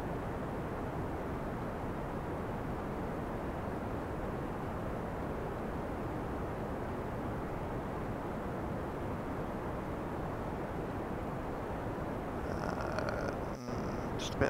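Rocket engine throttling up in Kerbal Space Program, a steady low rumbling roar that holds constant for a long stretch, with a brief burst of other noise near the end.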